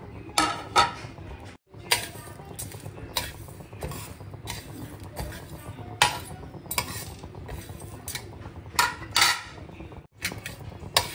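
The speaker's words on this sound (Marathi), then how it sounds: "मिरी, धनिया आणि जीरा एकत्र थोडंसं रोस्ट करून घेऊ" Black pepper, coriander and cumin dry-roast in a pan, with repeated metallic scraping, clinking and rattling as the spices are stirred and tossed, sounding fairly close with brief quiet gaps.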